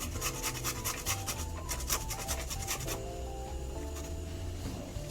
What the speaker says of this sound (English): This is turmeric root, and I'm going to be grating this.